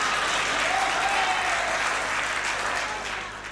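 At a Hindi comic poetry gathering, a crowd gives sustained, full applause that holds steady and then starts to fade near the end, with no speech over it.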